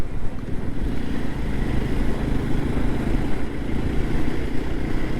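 A motorbike engine drones steadily and loudly as it rides along a smooth mountain road in Himachal Pradesh, with a constant low rumble and wind noise and no talking.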